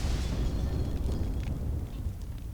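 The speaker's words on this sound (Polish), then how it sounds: "Ojej, ale to wszystko wybucha." Explosions in the video game Max Payne 2 rumble as a dense, low, continuous roar with crackling bursts on top, steady and fairly loud with no voices.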